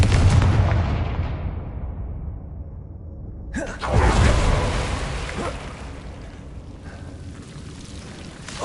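Blast spell explosions in Hogwarts Legacy, a loud booming burst at the start that rumbles and fades, then a second sharp blast midway with a roaring tail that slowly dies away.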